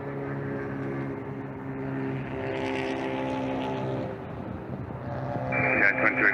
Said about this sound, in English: It's an A330. That's Scandinavian Airlines.